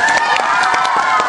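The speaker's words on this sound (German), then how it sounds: "Also Applaus für die liebe Miriam" An audience at a live show in Leipzig gives loud applause, a dense wash of clapping mixed with cheering and shouts, steady and close for a brief moment.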